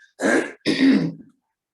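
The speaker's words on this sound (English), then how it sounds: "Sorry, I've got to clear my throat." Two gruff throat-clearing bursts close to the mic, separated by a brief pause, then silence.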